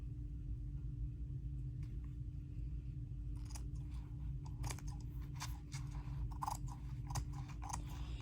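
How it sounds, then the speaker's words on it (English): Fabric scissors snipping through fabric and lace, a series of crisp, irregular cutting crunches starting partway in, over a steady low rumble in a quiet room. "I got fabric scissors. The right tool for the job."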